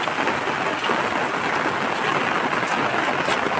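Steady, dense downpour of heavy rain hissing across the whole clip, loud and unbroken, with no voices.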